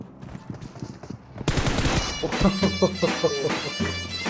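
Pump shotgun fire in PUBG Mobile sounds as a burst of loud, rapid shots under excited talk from players.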